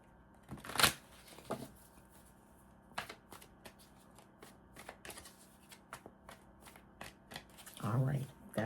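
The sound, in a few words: shuffling tarot cards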